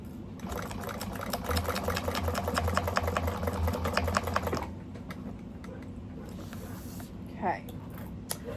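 A home sewing machine runs in a steady fast stitching burst for about four and a half seconds while making a glued bag project, then stops; afterward only quiet room tone and a faint voice remain.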